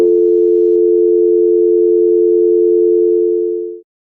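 A steady electronic telephone tone rings out loud and unbroken for nearly four seconds, then cuts off abruptly, with no voices over it.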